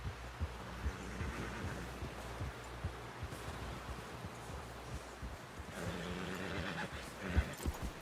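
A horse whinnies in a cowboy video game, neighing among hoof clip-clops and thudding steps, with a louder whinny near the end.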